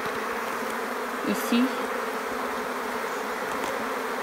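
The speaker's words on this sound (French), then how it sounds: "Et puis il y a vraiment beaucoup de vieilles abeilles." Honeybees hum inside a hive full of old bees, a dense steady buzzing close up with a few brief louder individual buzzes, and a short spoken word partway through.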